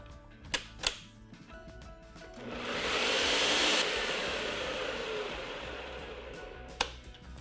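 A blender briefly whizzes dry black bean brownie ingredients with a pinch of salt, a broad whirring burst of a few seconds framed by sharp clicks and taps before and after.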